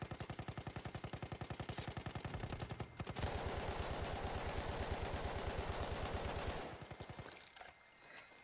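Rapid pistol gunfire from an MLE handgun in a video game: a fast run of sharp shots for about three seconds, then dense continuous firing and clatter, fading out near the end.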